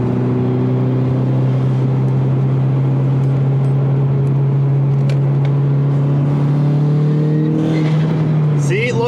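A Ford EcoBoost engine strains under load at about half throttle on a wet road, a steady droning tone with a faint irregular roughness, rising slightly in pitch near the end.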